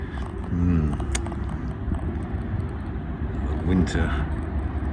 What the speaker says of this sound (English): when the traffic noise and the aircraft noise subsides a little bit